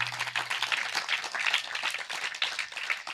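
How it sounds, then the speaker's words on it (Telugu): Congregation clapping steadily at a birthday gathering in a prayer hall, with dense, continuous applause from many hands throughout and a faint low hum beneath. "చప్పట్లు కట్టండి"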